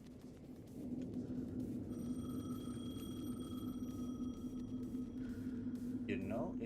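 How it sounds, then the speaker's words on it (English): A telephone rings in Alan Wake II, a thin steady electronic tone held over a dense low droning ambience, with a brief clatter at the end. "The phone again."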